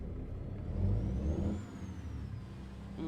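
Cummins diesel truck engine revving in American Truck Simulator, a low rumbling drone that swells then eases with a faint rising-and-falling whine above it, close and steady, no talk.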